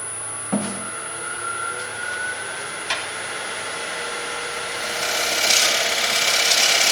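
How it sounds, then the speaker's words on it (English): Sandpaper rubs against a pine wood bowl, giving a steady, close scratchy hiss over a constant hum that swells louder and brighter toward the end. "I think I'll sand it a little bit."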